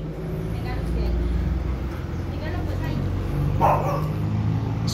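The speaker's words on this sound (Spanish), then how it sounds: "Esto es un Rottweiler," A Rottweiler puppy yips and barks a few times, close by, mixed under people talking and a steady background rumble.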